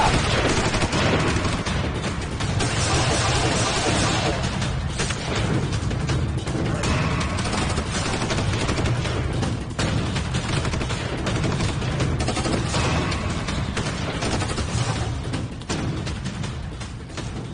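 Sustained bursts of movie gunfire crackle continuously, loud and dense, like heavy rapid shooting with no pauses.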